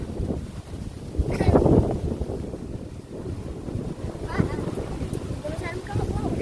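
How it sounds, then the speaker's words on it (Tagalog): Strong gusting wind buffets the microphone outdoors at a kite-flying session, a rough roaring rumble rising and falling, with people talking over it. "Ito yung hangin na nagpasabog kanina sa saranggola natin mga kalitar."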